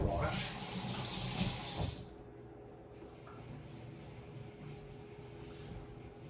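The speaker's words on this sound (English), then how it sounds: "Give my hands a wash." A kitchen tap runs loudly for about two seconds while hands are washed, then shuts off, leaving a faint room hiss.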